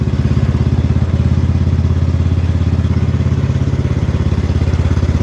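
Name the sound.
X T1 enduro series garden tractor engine running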